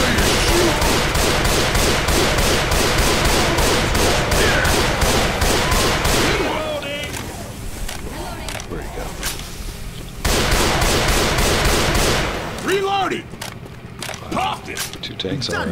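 Rapid, dense gunfire and zombie-fighting chaos in the co-op shooter Left 4 Dead 2, loud and continuous with short lulls, mixed with shouted game voices and team chatter.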